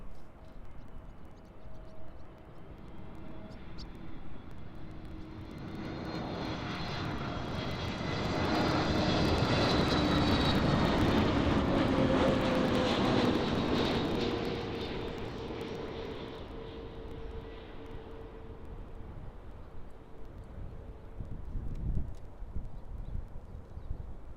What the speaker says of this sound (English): And here we go with the EasyJet A320. This is the A320 Neo,